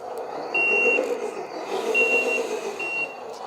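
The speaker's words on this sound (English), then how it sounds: "We've got the beep sound." A Lesu toy tractor truck gives three evenly spaced electronic reversing beeps from its sound system, close and clear over a steady motor whir.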